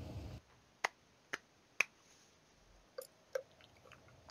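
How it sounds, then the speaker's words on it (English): A few sharp, isolated claps or snaps in a game voice chat, spaced irregularly and fairly close, over quiet background with no talking. "I heard somebody clapping"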